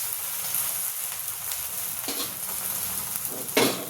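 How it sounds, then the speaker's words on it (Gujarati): Sabudana dosa cooks in ghee on a griddle with a soft, steady sizzle throughout and a few faint scrapes and clatters, the last one louder, with no talking. "ચડવા દઈશું ઢોસાને બંને સાઈડ."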